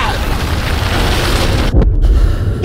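Explosions in the Call of Duty: Modern Warfare video game, a dense roaring rumble of blasts and debris that suddenly cuts out and then returns with low booming thuds, loud and close.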